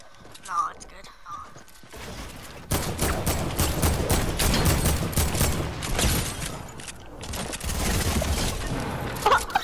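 Rapid bursts of video-game gunfire clatter in a dense volley after a short quiet start, with a voice talking near the beginning and over the shooting.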